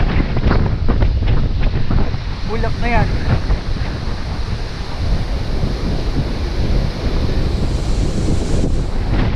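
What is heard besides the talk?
strong wind blowing on the microphone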